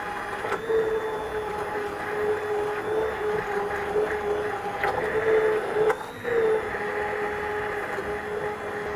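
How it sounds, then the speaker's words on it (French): Blender running steadily as it purées a thick white coco bean velouté, a continuous loud motor whir with a slight dip near the end. "Il ne nous reste plus qu'à mixer."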